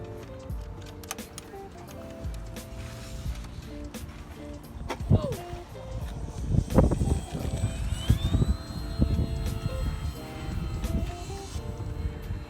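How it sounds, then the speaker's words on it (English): E-flite electric model airplanes fly at the Atlantic City Air Show 2018, with motor whines rising and falling in pitch as they pass, over a steady outdoor crowd hum and people talking nearby. "Just an afternoon flying planes."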